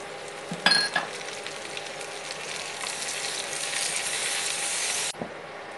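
Tomatoes tossed into a pan of frying onions and cashews, a loud sustained sizzle with a clink at the start, cut off abruptly near the end.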